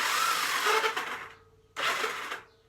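A harsh, whirring mechanical grind from a faulty Honda CL350 motorcycle starter, running for over a second, pausing briefly, then grinding again in a second burst.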